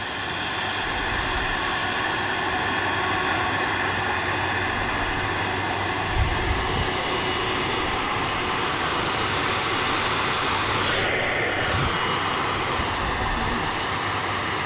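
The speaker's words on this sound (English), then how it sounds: "next we got a EasyJet on short final now" An EasyJet airliner passes on short final at Manchester Airport, giving a steady, broad engine rumble at moderate distance that stays fairly constant throughout, with a faint shift near the end.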